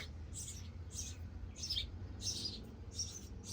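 Birds chirp faintly in short, evenly spaced bursts over a quiet background hum.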